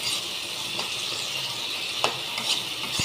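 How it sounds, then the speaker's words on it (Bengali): Tomato and chopped onion frying in a spice masala for a rohu fish dish, a steady close sizzle under stirring, with a few sharp scrapes of the spoon against the pan. "টমেটো, পেঁয়াজ কুচি দিয়ে"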